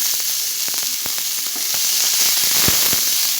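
Drumstick flowers tossed into a pan of frying onions and green chilli give a loud, continuous sizzle, sprinkled with sharp crackles and pops throughout.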